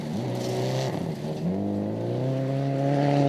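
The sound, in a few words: rally car driving through gravel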